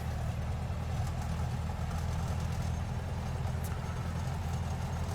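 Tiger Moth biplane engine running at low power, a steady low droning rumble with a continuous idle throb, close and even throughout with no talking.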